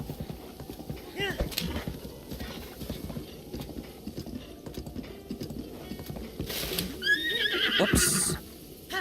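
A horse in the Breath of the Wild video game whinnies several times over a steady clip-clop of hooves, with a voice talking through much of it.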